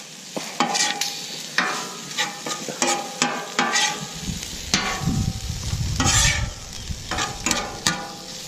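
Shrimp sizzle in butter on a Camp Chef 600 flat top griddle, a steady close frying hiss broken by repeated scrapes and stirring knocks of a spatula on the metal surface.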